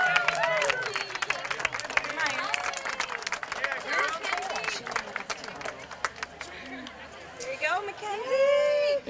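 Outdoor applause for an award recipient at a Seaway Run road-race ceremony: scattered hand-clapping and crowd chatter, with voices talking over and between the claps, swelling again near the end.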